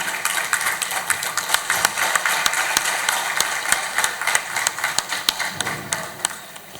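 An audience at a public district event in Surajpur applauds with sustained clapping. Sharp individual claps stand out in a loose, pulsing rhythm over a continuous bed of hand noise.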